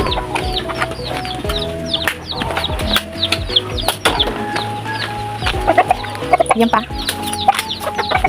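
Texas chickens, hens among them, cluck steadily in a backyard coop under repair, with overlapping calls near and far over a constant noisy background, and someone speaks briefly.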